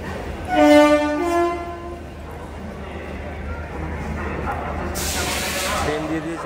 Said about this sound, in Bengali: এই আমাদের ট্রেন ঢুকছে বন্দে ভারত